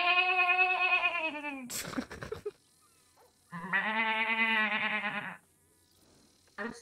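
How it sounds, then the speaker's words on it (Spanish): Goat bleating in a ranch role-play video game: two long, loud, wavering bleats separated by a brief scuffling noise, with another short bleat starting at the end. "Se convierte en una cabra de repente"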